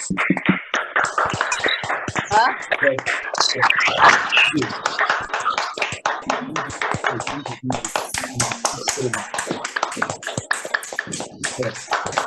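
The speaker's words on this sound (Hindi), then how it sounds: "सब लोग अनम्यूट होके हमारे ग्रेट अपलाइन है उनके लिए तालियां बजाएंगे।" Participants in an online meeting clap after unmuting, with scattered, uneven hand claps and taps coming through several microphones while voices talk over them.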